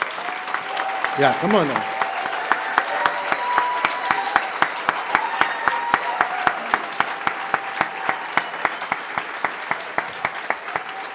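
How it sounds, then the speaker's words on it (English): Sustained applause from a crowd at a fire academy graduation ceremony, steady dense clapping with sharp individual claps standing out, briefly overlapped by someone speaking near the start. "give a special, just a round of applause for what they've been able to endure"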